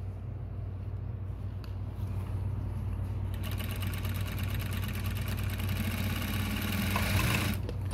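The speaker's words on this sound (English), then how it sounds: "New-Tech GC-8700, right? Same thing, I'm gonna open it up. I'm gonna start sewing with it." A New-Tech GC-8700 industrial sewing machine hums quietly before breaking into a steady, fast sewing chatter partway through that keeps running loud and even to the end.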